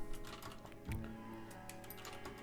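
Quiet typing on a computer keyboard, a brief run of soft, irregular key taps heard close and alone.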